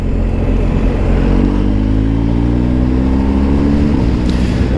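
A motorcycle accelerating out of a corner, its engine pitch rising steadily under a loud, continuous droning roar, with wind noise close by.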